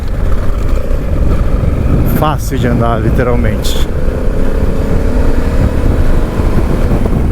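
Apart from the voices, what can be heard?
Honda Africa Twin 1100 motorcycle riding on dirt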